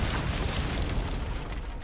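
A door blown open by a shot in Resident Evil 4 Remake gives a loud, sustained rumbling boom that fills the whole moment without pause.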